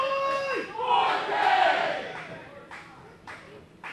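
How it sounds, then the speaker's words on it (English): A wrestling event crowd cheers and shouts in support. A rising whistle-like cry opens into a swelling roar of voices, which fades into scattered shouts and bursts of noise. "You can hear the cries from the crowd in support of Ohio is for Killers."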